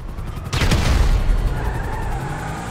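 A grenade blast in Grand Theft Auto 5 bursts out loud and close, followed by a rumbling low roar and a crackling scatter of debris that slowly fades.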